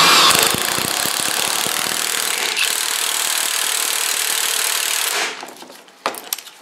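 Tightening radius arm bushing bolts on a Honda Accord subframe with a power tool: one loud, sustained whirring buzz running about five seconds close by, then stopping, followed by a couple of faint clanks.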